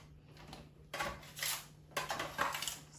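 A spatula tosses greens through a hot pan of roasted beets and tofu, giving two bursts of scraping, clattering stirring separated by a quieter pause, close and moderately loud.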